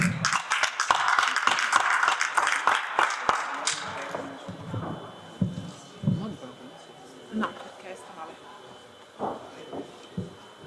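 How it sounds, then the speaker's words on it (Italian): Audience applause for a boxer at a regional boxing tournament final, a burst of clapping in the first few seconds that fades into scattered claps while an announcer talks over it. "sicuramente l'applauso arriverà anche per la pugilistica scaligera e per Giulia Palazzo all'angolo rosso"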